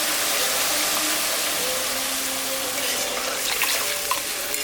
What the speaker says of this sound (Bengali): এখন আমি জল দিলাম।